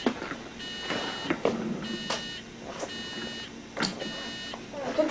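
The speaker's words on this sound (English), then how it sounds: "Pete, I got an alarm on section 2 again" At a control station, an alarm sounds in repeated electronic beep bursts, spaced at regular intervals amid clatter and room noise, moderately loud.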